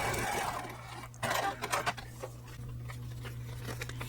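A sewing machine stitches paper-pieced quilt fabric for a table runner: a steady, low motor hum runs throughout, with soft clicks and a brief louder rattle of the mechanism near the middle, fairly quiet and close.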